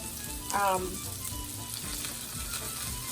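Fish sizzles and crackles steadily in a hot skillet on an electric stove, a continuous close frying hiss with a brief louder burst early on and faint kitchen sounds underneath.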